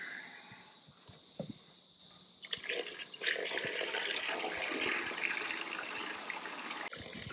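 Fuel pours steadily through a Mr. Funnel water separator filter, starting after a quiet stretch with a few faint clinks and then becoming a loud, continuous rushing splash.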